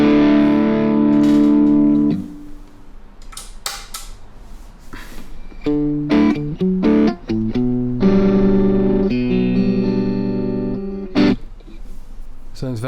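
Electric guitar run through a Laney Lionheart Loudpedal with no reverb, playing sustained distorted chords and short choppy stabs that cut off abruptly, dry and close, with brief gaps between phrases.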